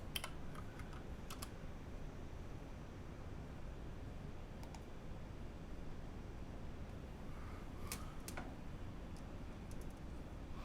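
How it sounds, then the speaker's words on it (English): Typing on a carbon fiber TKL mechanical keyboard produces scattered faint clicks and taps, sparse and distant-sounding beneath a steady broadband hiss. "Let's get keyboard tester going on."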